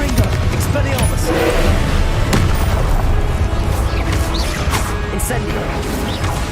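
Repeated fiery spell blasts and crashes from Confringo casting in the video game Hogwarts Legacy, loud and dense throughout, mixed with other combat impacts and whooshes.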